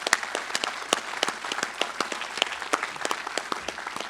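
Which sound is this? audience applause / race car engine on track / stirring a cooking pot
audience applause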